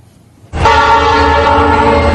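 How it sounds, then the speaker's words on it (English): A train horn sounds in West Suburban River Grove near Chicago, a loud sustained chord that starts abruptly and holds steady with rail rumble beneath, with no voices. "A train whistle signals the approach of noon here in West Suburban River Grove"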